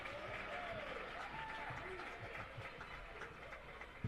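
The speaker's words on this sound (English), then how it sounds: "Heavy applause from this Gayville-volin crowd." Heavy applause from a home crowd at a high school basketball game between the Gayville-Volin Raiders and Bridgewater-Emery, a steady wash of clapping and cheering filling the gym, with an announcer talking over it.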